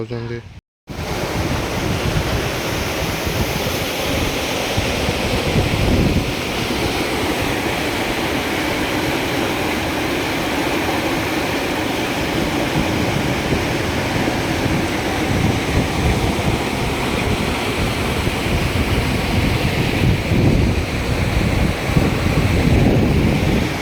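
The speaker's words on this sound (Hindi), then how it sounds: "साउंड देखो पूरा खतरनाक साउंड। और ऊपरटा है ब्रिज तलटा है गोटे छोटिया झरना।" A small waterfall pours beneath a bridge, giving a steady, loud rushing roar of falling water that fills the whole clip without a break.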